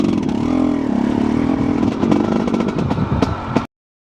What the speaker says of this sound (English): This is a dirt bike ride, of course.